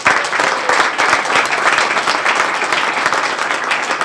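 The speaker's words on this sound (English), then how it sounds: "let's give a round of applause to yourselves for being here" A crowd at a CodeAcross NYC community coding event claps in a loud, sustained round of applause, many hands clapping at a steady level throughout with no pauses.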